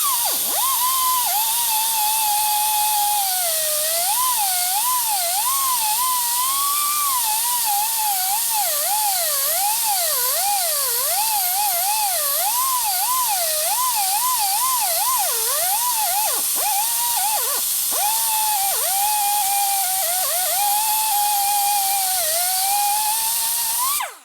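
A grinder works down a high spot on a 1977 Sportster Ironhead 1000cc engine part in a loud, continuous high whine whose pitch wavers as load changes, running uninterrupted without speech.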